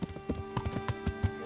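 Horse hooves clip-clop at a steady walking rhythm while riding in Kingdom Come: Deliverance, the regular thuds close and moderately loud over a faint background hum.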